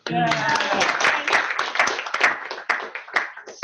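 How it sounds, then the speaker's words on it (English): An audience at a casual show-and-tell gathering breaks into clapping, scattered hand claps of moderate loudness that thin out toward the end, with voices mixed in. "we can all clap"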